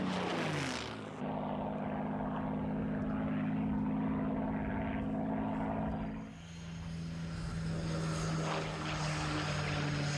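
Two-thirds or three-quarter size flying replica of a Spitfire or P-51 Mustang propeller aircraft, its engine droning steadily overhead with a rising pitch at the start and a dip midway as it passes.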